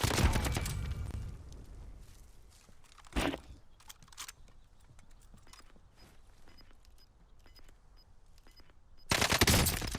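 Gunfire in the video game Warzone: a couple of sharp bursts stand out, one near the start and a louder burst at the end, with scattered faint clicks and distant shots between.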